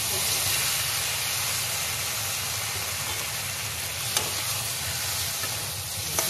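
Onion, ginger and garlic fry in a pan for a sour taro curry, producing an unbroken loud hiss with one brief sharp tap partway through.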